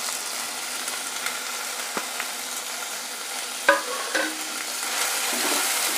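Ginger and garlic sizzle steadily in a pan as they are sautéed for village-style pepper chicken, a close, even frying hiss with a few clinks and scrapes of a stirring spoon and no talking.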